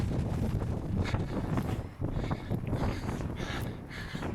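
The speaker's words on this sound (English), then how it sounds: "it's getting really windy now" Wind gusts buffet the microphone of an Action 6 action camera with basic wind dampening, outdoors by a pool on a windy day, a steady broadband rumble with louder surges throughout.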